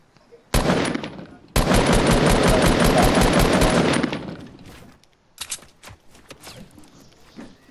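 Rapid automatic gunfire rings out in the Fortnite video game. Two close bursts are heard, a short one and then a longer sustained volley, followed by a few scattered shots.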